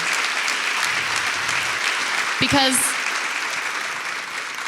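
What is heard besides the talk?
audience applause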